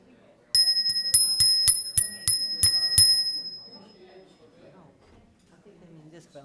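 A small hand bell in a church worship service rings in a quick run of about nine bright, evenly spaced strikes over roughly three seconds, then fades as people begin talking.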